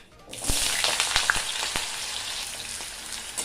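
Cut potatoes dropped into hot mustard oil with a tempering of five-spice and dried red chilli, bursting into a loud, steady sizzle with a few sharp crackles near the start, close and continuous with no talking.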